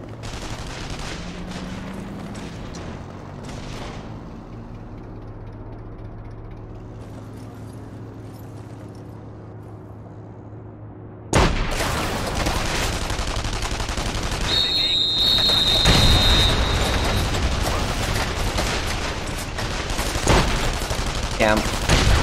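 Gunfire in The Saboteur video game, a loud stretch of game combat with dense shots and explosions that swells in the second half over a steady background rumble.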